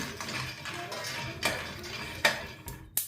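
Almonds dry-roasting in a pan while being stirred, with soft scraping and rustling throughout and a few sharp clinks of the utensil against the metal, close and fairly quiet.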